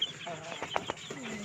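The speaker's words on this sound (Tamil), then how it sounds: "இதுதான் எங்கள் வீட்டில் புதுசாக நான் செஞ்ச இன்குபேட்டரில் பொரித்த கோழி குஞ்சுங்க." Incubator-hatched chicken chicks peep and cheep close by in a series of short, high calls with scattered clucking tones, no speech over them.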